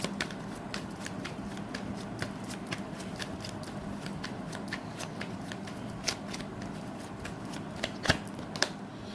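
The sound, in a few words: tarot cards being shuffled and drawn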